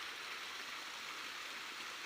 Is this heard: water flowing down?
yes